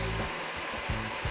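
Shrimp and sweet peppers sauté in a hot pan, giving a steady broadband sizzle with low rumbling bursts, close and continuous through a short stretch with no talking.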